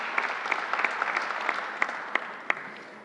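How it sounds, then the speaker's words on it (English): An audience at a New York governor's COVID vaccination briefing applauds SUNY personnel, a thin, moderately quiet spread of clapping with a few sharper individual claps standing out, no voices. "Let's give them a great round of applause"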